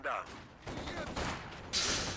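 Video game gunfight with SMGs and assault rifles, dense overlapping bursts of automatic fire at moderate distance, mixed with a commentator's voice speaking over it.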